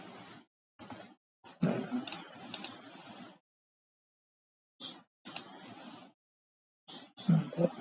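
Keys pressed on a computer keyboard for a cut shortcut: short clusters of clicks and taps separated by silent pauses, close and fairly quiet.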